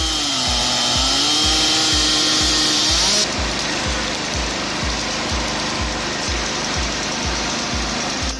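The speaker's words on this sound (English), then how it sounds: "I'm truly amazed by my homemade firewood processor." A homemade firewood processor built from scrap and new parts runs loudly and continuously, an engine drone with a steady rhythmic thumping underneath and a hissing mechanical whine that drops away partway through.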